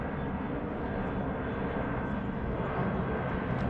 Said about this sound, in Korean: 비행기 지나갑니다